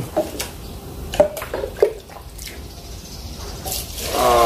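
Water is poured while planting lettuce in a small container garden, heard as a few scattered splashes and trickles, then a steadier, louder pour building at the end.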